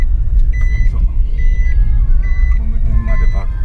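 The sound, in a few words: Mitsubishi i-MiEV electric car reversing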